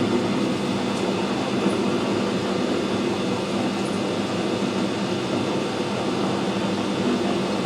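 A lathe screw-cutting a thread on a Sentinel steam wagon part gives a steady, loud, continuous machine rumble and hum with no breaks.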